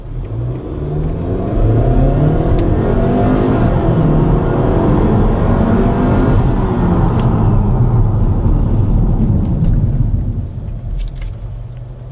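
A 2015 Hyundai Sonata Sport with a 2.0T engine accelerates hard, its mid-pitched engine roar climbing through the revs and holding loud and close for several seconds before easing off.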